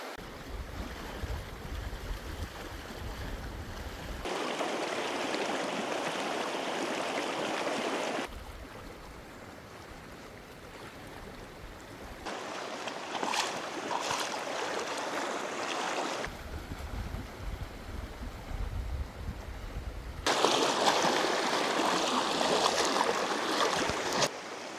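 A mountain river on the way up to Connor Lake rushes and splashes around a hiker wading across on foot, loud and close, with surging bursts of churning water.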